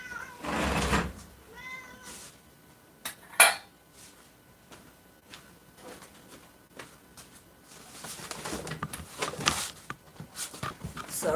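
A stubborn cat meows amid clattering dishes and cutlery, with knocks and bumps from a door or window in a domestic setting, the meows short and intermittent between louder clanks.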